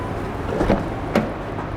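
The power trunk of a 2020 Porsche Macan closes after a button press, giving a soft motor hum with two short thuds and clicks close by, no talking.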